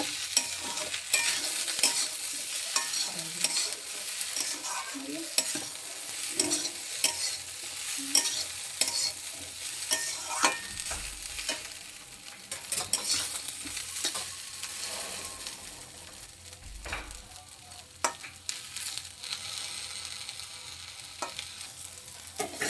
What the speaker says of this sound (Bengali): ভালোভাবে নাড়িয়ে নেব।